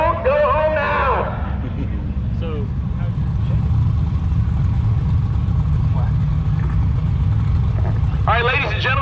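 Drag racing car at a Sick Week event, heard as a loud, steady engine roar that fills the whole stretch from a distance, with a crowd announcer speaking over it at the start and end.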